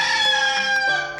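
A rooster crows once in a single bright, harmonic call that holds steady and then trails off, loud and close with nothing else heard.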